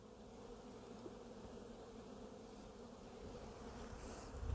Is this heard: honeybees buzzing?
yes